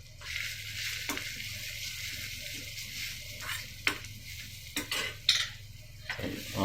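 Ginger and garlic sizzling in a pan for vallarai soup, a steady close sizzle broken by several sharp scrapes and clinks of a utensil stirring.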